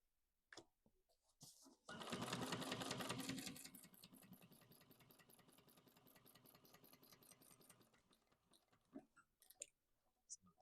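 A sewing machine runs a steady, fast stitching burst along a bag seam, starting loud and settling into an even rhythmic whir before stopping, with a few handling clicks before and after.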